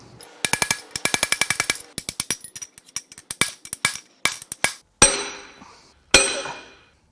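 Sharp metal-on-metal hammer blows strike a rusted, corroded Powerstroke diesel engine's rods and pistons, a rapid series of ringing clanks followed by two heavier, slower hits with lingering ring.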